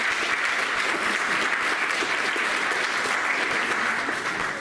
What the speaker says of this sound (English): Let's give the parents a big round of applause.